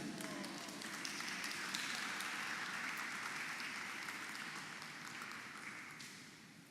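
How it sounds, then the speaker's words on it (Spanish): Applause from the audience at a university lecture on social inequality in Panama City greets the school's communication director, a continuous, fairly faint patter of many hands that slowly tapers over several seconds. "Le damos la bienvenida con un fuerte aplauso"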